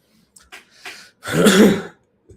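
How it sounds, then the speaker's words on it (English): A person clears their throat with a few small rough sounds building to one loud harsh rasp, close and alone. "I will be clearing my throat because I do be having the allergies"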